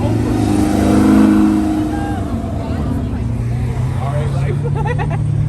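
Cars leaving a big car meet, including a BMW M3 and a Cadillac CTS-V, with a loud engine droning and revving close by and people talking over it.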